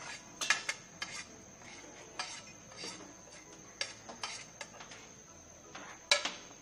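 Mutton masala being mixed with black pepper powder, salt and spices in a pot: irregular clinks and scrapes of a spoon against metal, close and fairly crisp, with quiet gaps between strokes.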